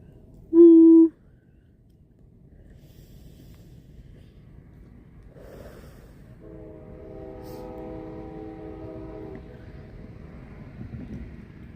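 A train at a rail crossing gives a short horn blast, then the sound of rolling rail cars and a steady horn tone builds gradually over distant wind noise, growing louder toward the end.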